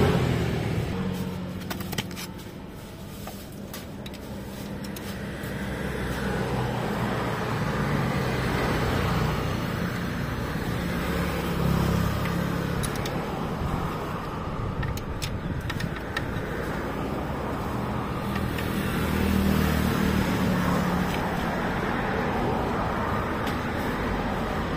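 A Honda LS125 motorcycle on a test ride after new wheels and tyres were fitted, its engine running steadily with passing wind and road noise and some ticking, under occasional indistinct talk.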